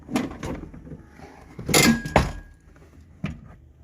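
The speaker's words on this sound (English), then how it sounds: "I'm going to pull this motor back off here" Plastic clunks and scrapes as a power window motor is pulled off the inside of a 2007–2012 Dodge Caliber door panel, a few sharp knocks close by with quiet pauses between them.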